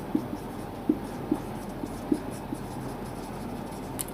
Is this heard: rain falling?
no